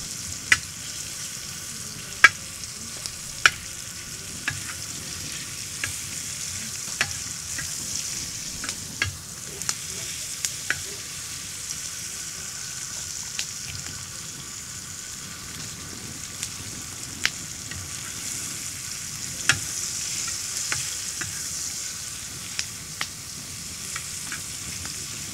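Bacon fries on a disc grill with a steady, close sizzle and scattered sharp pops and crackles throughout, no voices present.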